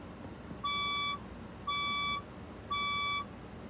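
Fire alarm sounding three evenly spaced electronic beeps, each about half a second long, clear and steady over a faint background hum, with no voices.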